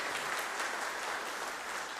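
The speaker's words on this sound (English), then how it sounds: "Give her a round of applause." Audience applause at a community organization's event, a steady, dense wash of clapping from a crowd that holds evenly for the full two seconds with no voices over it.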